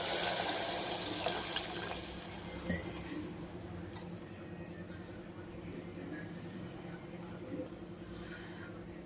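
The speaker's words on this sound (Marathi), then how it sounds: "पाणी टाकते मी आता शिजायसाठी." Water poured from a tap or vessel into a cooking pot for masala khichadi, a steady broad splashing rush that is loudest at the start and then settles into a continuous flow.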